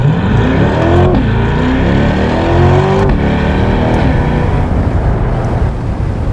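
A sports car launches off the line onto a freeway, engine revving hard and climbing through rising gears, loud and close, with a steady roar and brief dips between shifts.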